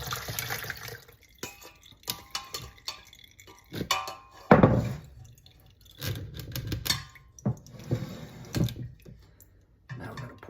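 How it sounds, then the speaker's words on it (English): Liquid is strained off homemade bread and butter pickles. Splashes and drips come in uneven bursts, with one louder pour and a few clunks of the pan, close by and with no voices. "The first thing I'm going to do is strain off the liquid"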